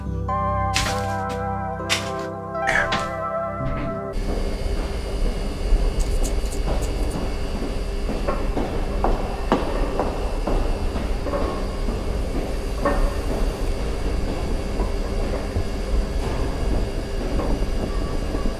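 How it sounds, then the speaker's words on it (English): Train passing in a Kane Pixels Backrooms video, starting as tonal hums and then swelling into a loud, continuous rumble with rattling clatter, heard alone without speech. "Okay, what? A train?"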